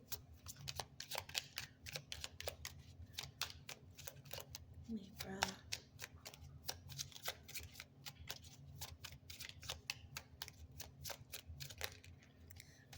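Tarot cards being shuffled and flipped, a rapid run of crisp, near ticks and snaps repeating steadily for several seconds, with a voice talking quietly underneath.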